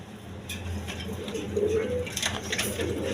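A pair of Chuachandan pigeons in a small cage coo softly nearby in a low, throaty warble, with light rustling and clicks around them.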